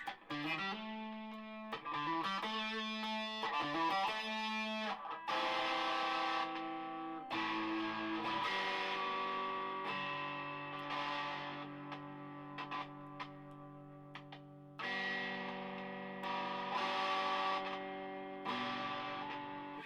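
Telecaster electric guitar with a buzz fault, played through a Rat distortion pedal: chords and notes ring out with thick, sustained distorted tone, stopping and restarting in phrases, with no talking.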